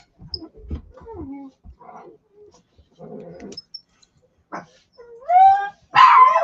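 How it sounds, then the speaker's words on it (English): Dogs barking at home with sharp, intermittent barks and yips rising in pitch, growing louder and closer toward the end, with quiet gaps between bursts. "now all the dogs are going to go off"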